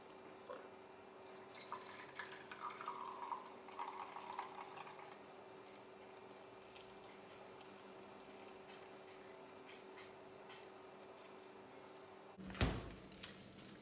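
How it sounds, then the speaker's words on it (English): Celery juice poured slowly into a mason jar, a quiet trickling and liquid fill over several seconds, followed by silence and then a sharp clunk near the end. "pour it in my mason jar"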